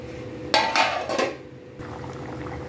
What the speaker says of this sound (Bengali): এবার আমি ঢেকে দেবো।